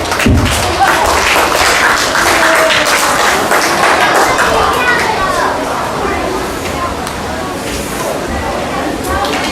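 An audience claps steadily at a fifth-grade student project presentation contest at Shimen Elementary School in Taoyuan, with loud, sustained applause mixed with children's voices and occasional thuds.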